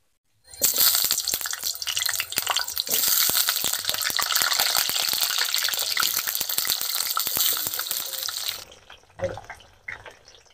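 New potatoes drop into hot mustard oil in a wok and sizzle loudly and steadily for several seconds, a dense hiss that then cuts out abruptly, with a few faint clinks afterward.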